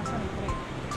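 Wind rushing steadily and loudly past the microphone at a Busan beach near a monorail line, a continuous broadband roar that fills the whole moment with no talking.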